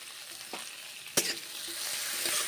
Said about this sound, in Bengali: এইভাবে বরবটিগুলোকে আমি এখন ভেজে নিচ্ছি